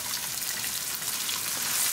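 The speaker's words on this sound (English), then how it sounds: "Cooking our onion for 1 minute" Onions sautéing in a pan with garlic and ginger, a bright, continuous hiss of sizzling oil, close and even, with no one speaking.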